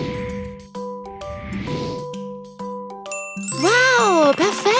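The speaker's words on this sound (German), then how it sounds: "Kannst du die Glocke im Zimmer finden?" A small bell in a room, found in a children's game, gives bright tinkling rings in short bursts, then a busy flurry of jingling chimes toward the end, close and clear.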